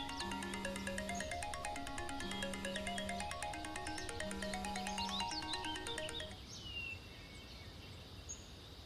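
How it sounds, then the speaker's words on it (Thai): A phone ringtone plays a bright, repeating electronic melody with steady sustained notes for about six seconds, then cuts off, leaving quiet room tone; it is fairly faint and plays alone with no voices. "ผมขอตัวรับโทรศัพท์นะครับ"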